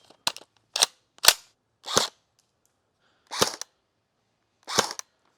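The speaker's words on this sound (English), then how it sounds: "let's go ahead and chronograph it and go to the shooting range and see how it does" Airsoft gun firing six separate sharp cracks through a chronograph, spaced irregularly with silent gaps between shots, loud and close with no talking.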